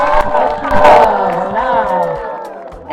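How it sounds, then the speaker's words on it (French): A crowd at a community event cheers and shouts loudly, with voiced whoops and yells dominating over any clapping, close and energetic throughout. "on accueille vraiment avec un grand tonnerre d'applaudissements"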